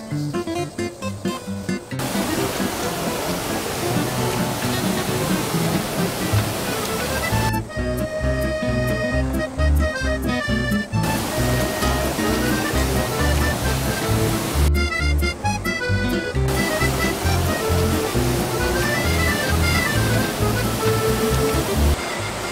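One of the twelve waterfalls on Naeyeonsan in summer, pouring into a mountain valley: a steady, loud, broadband rush that fills the whole stretch without a break, with some tonal sounds layered over the roar at times.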